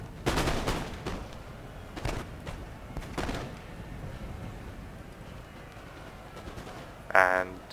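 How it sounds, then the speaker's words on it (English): Musket volleys crack out in a video game battle, sharp overlapping bursts of gunfire in quick succession followed by scattered single shots, with a brief burst of game sound near the end. "Let's watch this volley."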